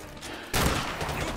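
Gunfire in Call of Duty Modern Warfare 2 breaks out abruptly partway through, a loud, dense burst of rapid shots that keeps going to the end after a quieter stretch of game ambience.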